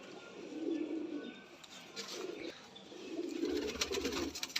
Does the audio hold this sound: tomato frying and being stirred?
no